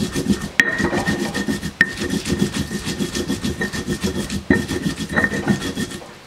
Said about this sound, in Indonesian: Kalau kita giling ini bawangnya dipinggirin dulu ya teman-teman ya, karena tangan ini juga nggak bisa giling terlalu halus, jadi pelan-pelan.